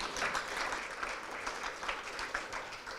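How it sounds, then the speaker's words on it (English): Audience applause at a panel event on democracy and digital transformation, a steady sustained round of clapping from a crowd filling the whole stretch at even loudness. "a round of applause, please, for Brian."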